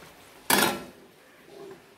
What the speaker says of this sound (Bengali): তো আমি এবার ঢাকা দিয়ে দিচ্ছি।